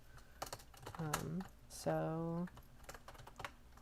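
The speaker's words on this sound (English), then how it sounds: "I'm over here typing on the left side" Rapid clicks of typing on a computer keyboard while entering LaTeX code for a math proof, steady and close, with a voice talking over the keystrokes.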